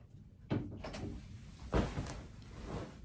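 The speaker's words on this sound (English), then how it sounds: "now I gotta go open the door." A door being opened indoors gives two distinct thumps about a second apart, the second louder, over a low background hum with no talking.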